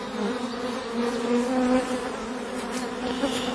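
Honeybees swarm over an open brood frame at a hive in an apiary, a dense steady buzz close by with wavering pitch and no talk over it.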